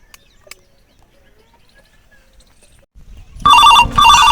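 After a near-silent stretch with faint rustles, a telephone suddenly rings close and loud in two short repeating bursts.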